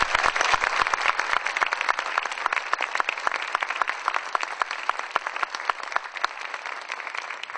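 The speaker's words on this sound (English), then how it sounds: "Let's give them a big round of applause." A crowd at a Norwegian family festival applauds the musicians who accompany the dancers, steady clapping with crisp individual claps, fading slightly toward the end with no talk.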